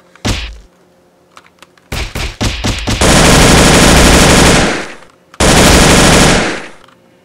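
Gunfire from the top-down indie action game Wake The Dragon: a few single shots and a quick stutter, then two long loud sustained bursts of automatic fire, close and dominant with no talking.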